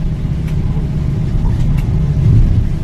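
A road vehicle's engine drones through low cloud on a mountain road, a close, even low rumble that swells slightly near the end, with no voices.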